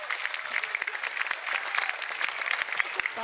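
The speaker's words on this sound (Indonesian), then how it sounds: "Terima kasih ya, tepuk tangannya." An audience at a stand-up comedy show applauds, a dense, steady round of clapping from a sizeable crowd that continues evenly throughout, with no talk over it.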